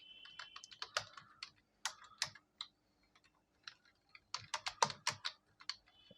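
Keys clatter on a computer keyboard as words are typed into a PowerPoint table, bursts of quick close clicks separated by short pauses, with no voices.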